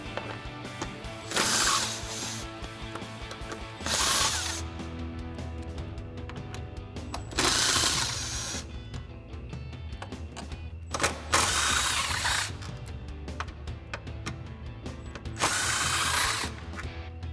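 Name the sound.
impact wrench with 12mm socket removing bolts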